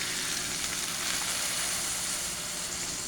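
Water hits a hot cooking pot of ginataang sitaw with pork liempo, making a steady, even sizzle and hiss at moderate volume with no talking.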